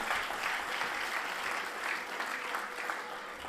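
Steady applause from an audience at a Tamil speech event in Tiruvallur, a dense wash of clapping that holds at an even level throughout.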